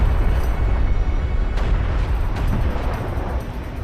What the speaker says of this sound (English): Yeah, that barrage, like, stormtrooper aim type scenario, like, hit around this border of the carrier, but didn't actually land on it at all.